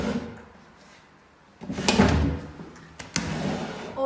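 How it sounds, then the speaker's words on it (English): Wooden drawers in a house being slid open and shut, a soft scrape and clunk followed by louder rumbling slides and knocks, close by and with no talking. "All drawers open and close correctly and are in a great working order."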